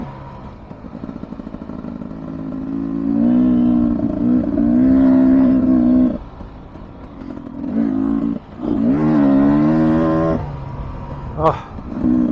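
A 2023 Beta 300 Race Edition two-stroke dirt bike engine runs close by, idling and then revving up and down in several loud bursts, with brief pauses between them and a sharp clack near the end.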